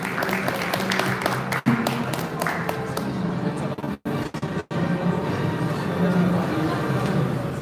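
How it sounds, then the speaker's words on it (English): Audience applause greets Mr. Mohammed Akiki at the final ceremony of the Concorde Backgammon Tournament 2019, a broad, steady clapping from a hall crowd with a couple of brief dropouts midway. "Please applause, Mr. Akiki."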